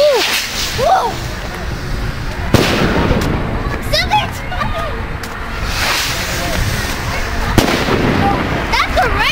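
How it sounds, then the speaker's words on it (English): Fireworks burst at a bonfire night in Belfast, with loud sharp bangs and crackles scattered irregularly over a rushing outdoor background, while people exclaim nearby. "fireworks"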